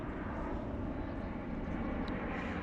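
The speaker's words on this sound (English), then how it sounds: "The only issue is that the airplanes are quite noisy." Steady, loud broadband roar of a jet airliner passing low over Richmond in London on a hot sunny day, a continuous rumbling wash that fills the whole stretch without letup.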